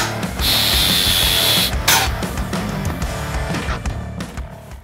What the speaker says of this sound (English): This is a sanding machine.